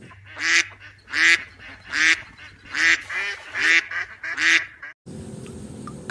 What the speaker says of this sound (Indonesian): Bebek, teman-teman.